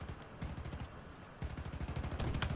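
Rapid bursts of turret gunfire from a Warthog vehicle in Halo Infinite, loud and close, firing in a steady repeating rhythm that grows heavier toward the end, with no voices over it.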